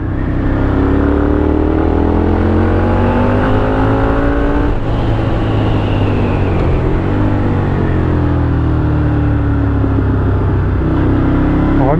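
Moto Guzzi 1200 Griso SE motorcycle pulling away under hard acceleration in third gear, its engine note climbing in pitch through a gear change and rising again, loud and steady throughout with wind noise.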